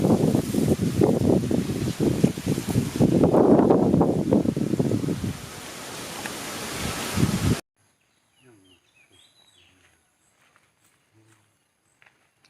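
Strong gusty wind from a summer storm sweeping across northeast Thailand roars loudly and continuously with rustling, then cuts abruptly to near silence with only faint scattered noises.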